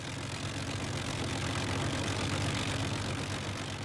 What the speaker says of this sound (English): The sound of 4 Merlins is something which is beautiful.